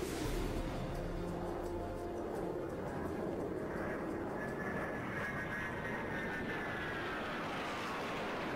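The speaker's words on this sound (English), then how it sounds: "There's a fighter jet! There he is, coming straight for us!" A low, steady fighter jet roar dominates throughout, rumbling overhead with a rising whine as it passes.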